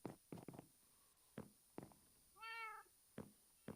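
A cat gives one clear, rising meow amid soft footsteps and scattered thumps in a quiet room.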